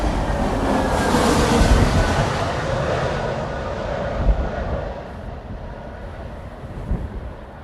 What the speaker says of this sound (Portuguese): E na final já temos mais um avião, isto não para aqui a movimentação. Vindo de Copenhagen no A320 Neo